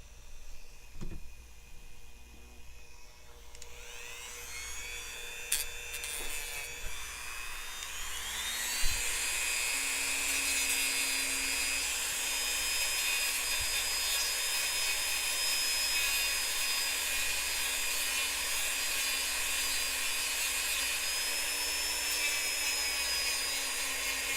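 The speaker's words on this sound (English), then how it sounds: "That's the only major drawback of working with the Dremel, other than the kickback, of course." A Dremel rotary tool spins up and grinds on a small Nendoroid figure, a sustained high-pitched whine that starts after a few seconds of light handling noises and holds steady, close and fairly loud, with no talking.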